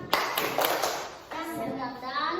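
Several quick handclaps in a short rhythmic burst, with children's voices chattering in between.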